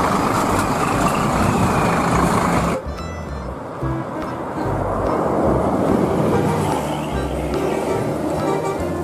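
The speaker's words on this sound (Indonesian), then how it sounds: "Ada juga bis Sinar Jaya" A Sinar Jaya bus passes close by, with a loud broadband engine and road roar that cuts off abruptly, then lower traffic noise follows.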